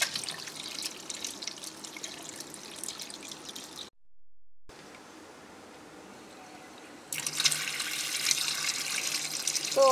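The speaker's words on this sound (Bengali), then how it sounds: "আমি শাকগুলো ভালো মতো ধুয়ে নিচ্ছি" Jute leaves are rinsed under running tap water in a kitchen sink, a steady close splashing flow that pauses briefly, then returns stronger and brighter.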